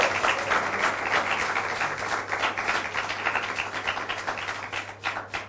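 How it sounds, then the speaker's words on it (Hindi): Audience applause welcoming guests at a Hindi film interview spotlight event, a fairly soft, steady crowd clapping over a low hum, sustained across the whole stretch without speech. "तो तालियां जोर से"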